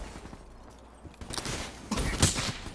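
Gunfire in a shooter video game where the player is armed with a shotgun: quiet at first, then loud shots and bursts in the second half, building to a dense volley near the end.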